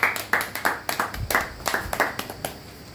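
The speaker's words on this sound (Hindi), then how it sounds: "थैंक यू सर के लिए जोरदार ताली।" An audience at a business meeting claps together in a brisk, ragged burst of applause that fades toward the end, close and fairly loud.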